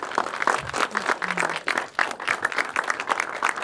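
Applause from an audience welcoming a woman to the stage at a talk event, with irregular claps and some crowd noise throughout a short burst.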